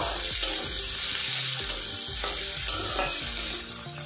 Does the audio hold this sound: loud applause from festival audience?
no